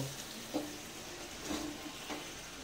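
Rita fish in spice paste with a little water, sautéing in a pan for a potato and fish curry, making a faint low sizzle with a few soft stirring scrapes, quiet and close, with no voices.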